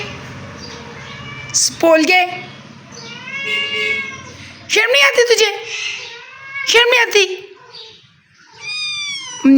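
A cat meows loudly and close by several times, with long drawn-out wails, while a person speaks sharply in between.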